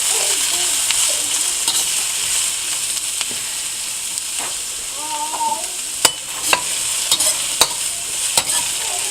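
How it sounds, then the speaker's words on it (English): Onions sautéing in a hot wok for pad thai, a loud steady sizzle with occasional sharp clacks of a utensil against the pan toward the end, close up and without speech. "So you dump in my onions first because they're bigger. Stay nice and hot. Just saute this up a little."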